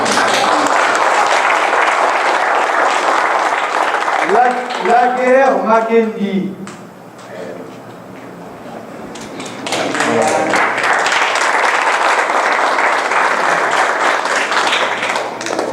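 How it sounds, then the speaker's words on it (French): Congregation applauding at a church teaching event, loud clapping that fades into a brief spoken line and quieter moment, then swells again into sustained applause. "Faut applaudir."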